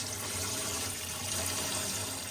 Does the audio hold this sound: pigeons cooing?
no